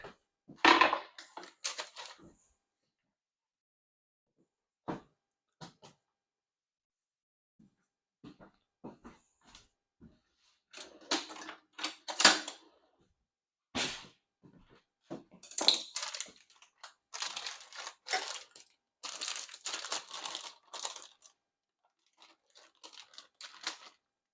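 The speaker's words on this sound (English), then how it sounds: "let's cut up some of these apricots" Apricots being cut up for a plum compote, with irregular bursts of crunchy slicing and chopping on a board, separated by short pauses and growing busier toward the end.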